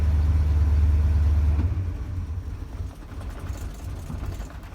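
An engine at the start of the season runs at a rough, unsteady idle with a loud low throb that drops off partway through, then keeps murmuring more quietly.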